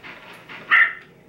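A person imitates a wailing dog with a short whimpering howl that rises to a brief louder peak before fading, close to the mic.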